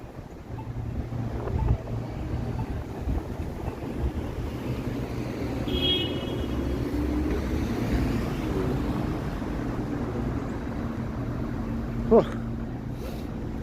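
Wind blowing outdoors on a Toronto street on a summery evening, a steady rushing buffet against the microphone with low rumble, and a brief voice.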